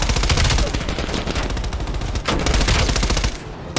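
Rapid, loud automatic fire from an MP5 submachine gun in Call of Duty: Black Ops Cold War, sustained bursts of closely spaced shots with a brief pause midway, heard alone without talk.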